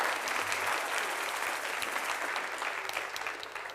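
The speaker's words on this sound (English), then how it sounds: "please give Hari Kirtan a round of applause" Applause from the audience at a kirtan music festival in Rishikesh, a steady broadband wash of clapping sustained at even strength throughout with no talking.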